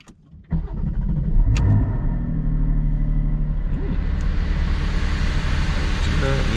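A Porsche 718 GT4 cranks and fires up for the first time, catching with a sharp burst before settling into a loud, steady rumbling idle up close.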